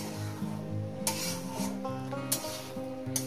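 Potatoes fry in a pan for aloo posto, a steady sizzle with the scrape and clink of stirring against the pan, up close and with no talk.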